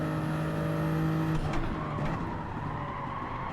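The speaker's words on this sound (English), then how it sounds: "See the tyres squealing there." Race car tyres squealing in the Gran Turismo 7 racing game, a loud sustained engine drone with a brief squeal near the middle, fading slightly toward the end with no talk over it.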